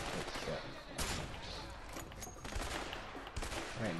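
Rapid bursts of gunfire from the video game A Way Out crackle continuously, dense and loud, with voices talking over the shooting.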